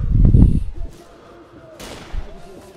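A sniper rifle fires in the shooter game Sniper Elite V2, one heavy booming shot up front that rolls off into a low rumble, with a fainter thud later on.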